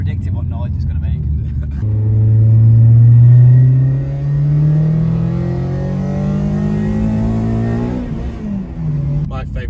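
A modified Renault Clio's engine gives a loud, low rumbling drone that swells and then settles into a steady burble close by, with a voice briefly heard at the start and end.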